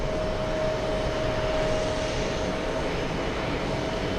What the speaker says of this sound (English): We're gonna go and zoom into that Emirates A380.